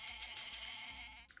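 Goats bleat in the Age of Mythology strategy game: several wavering, nasal bleats follow closely one after another, loud and near, with a short clicking sound at the end.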